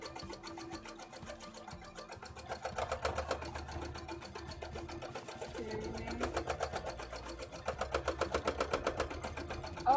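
A sewing machine stitching a bra runs in rapid, rhythmic bursts that grow steadier and louder toward the end, heard close up with a faint background hum and occasional low talk.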